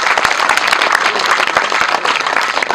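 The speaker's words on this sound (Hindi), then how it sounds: "तालियों से इनका भी हार्दिक स्वागत।" Dense, steady applause from a crowd at a school annual function and donor honouring ceremony, loud and continuous throughout with no voices breaking through.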